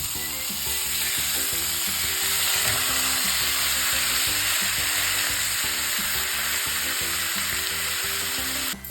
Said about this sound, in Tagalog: Piprituhin na rin natin ang ating thinly sliced pork belly.